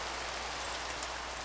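Steady rain hisses evenly in a Minecraft SMP game world, a constant broadband patter with no talk over it.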